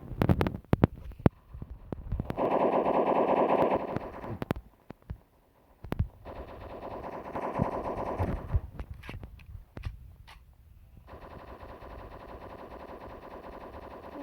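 Rapid automatic gunfire from the mobile shooter game Block Strike, with bursts of dense rattling shots in the first seconds, then a longer sustained burst, followed by a steady lower rumble of game sound.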